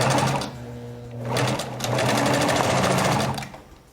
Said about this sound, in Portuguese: e vou rebater essa costura, lembrando de fazer o retrocesso